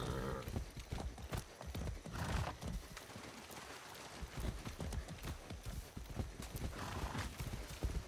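Horse hooves clip-clop steadily at a brisk gait in the Far Cry 6 video game, a continuous loud rhythm of hoof beats with occasional whinnies mixed in.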